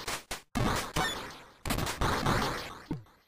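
Shooting and explosions in Silkworm on the Commodore 64, a run of sharp, rapid blasts that decay quickly and come in irregular bursts, loud and close, with short gaps of near silence between them.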